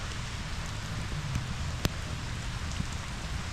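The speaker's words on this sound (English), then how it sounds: "I think as you can tell, it is raining." Steady rain falls outdoors on a Monday morning at a driveway patio work site, a continuous broadband hiss with a few sharper drop ticks and one brief click, no voices.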